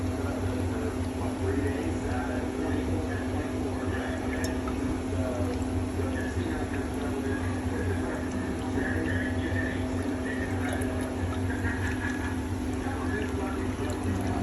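Rendered lard poured through a screen into mason jars, a soft steady trickle of liquid filling glass against a constant low hum of background noise, with no pause in the flow.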